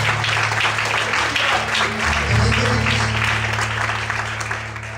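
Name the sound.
audience applause in church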